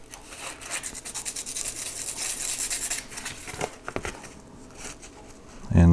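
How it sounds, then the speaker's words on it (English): Switch contacts from a snowblower chute direction control switch are rubbed on super-light-grit sandpaper, producing close, rhythmic scratchy strokes that fade and end with a soft handling bump. "we're going to take the existing contacts and go on some super light grit sandpaper"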